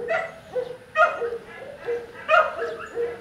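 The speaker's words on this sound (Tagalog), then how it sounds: "Submissive dog." A submissive dog gives repeated high whimpers and soft yips in short rising cries, close by, with faint talk around it.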